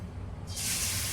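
Green chillies dropped into hot oil for paneer bhurji, a sudden loud hissing sizzle that takes over after a low background hum and continues steadily and close, with no speech.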